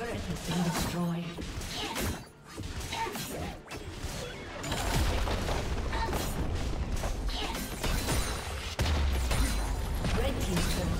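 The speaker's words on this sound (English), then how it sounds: "Red team's turret has been destroyed." A turret crumbling during a League of Legends match, with heavy crashing and smashing impacts layered in dense, loud game audio while a voice speaks over it.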